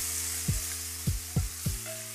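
Lamb pieces frying in a pan, turned with tongs: a steady sizzle with four soft thuds as the meat is flipped, over a constant low hum, with no talk.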